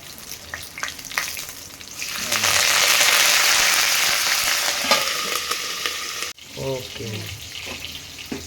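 Curry leaves hit hot oil for a ridge gourd peel chutney, bursting into a loud, steady sizzle close by that swells then fades, with a sharp clatter near the end and a voice speaking faintly.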